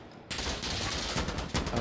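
Dense rapid gunfire in Insurgency Sandstorm, fired through a table in a wallbang, a continuous rattling burst that starts abruptly and carries on with a brief break near the end.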